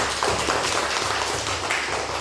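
Classroom applause for a student group, a brief burst of many hands clapping steadily at close range, dense and even throughout with faint voices underneath.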